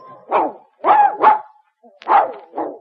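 A dog in an old radio advertisement for Gaines dog food gives five sharp, clear barks in quick uneven pairs, close and loud with no talking over them.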